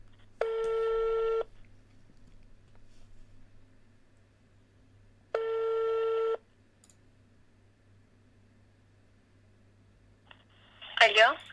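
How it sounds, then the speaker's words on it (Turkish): A telephone call rings out: two long, evenly spaced ring tones with a pause between them, clear and close, followed at the end by a brief bright electronic chirp. "Ya telefon açacak mı?"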